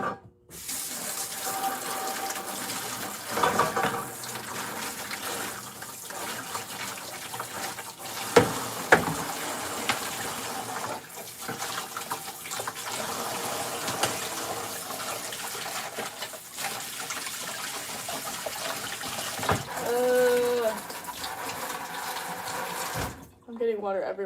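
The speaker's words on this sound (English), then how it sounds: "I'm getting water everywhere." Water runs from a tap for a long stretch as glazed ceramic pieces are rinsed out, splashing and gurgling in a sink, with a person talking over it at times.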